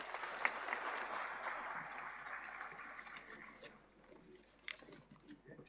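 Audience applause at a national space science symposium, a dense steady clapping from a hall crowd welcoming a speaker, strong at first then thinning and tapering toward the end.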